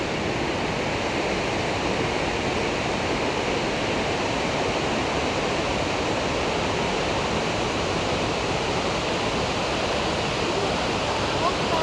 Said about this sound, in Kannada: ಈ ಫಾಲ್ಸ್ ಸೌಂಡು ಮತ್ತು ಈ ವ್ಯೂನ ಎಂಜಾಯ್ ಮಾಡಿ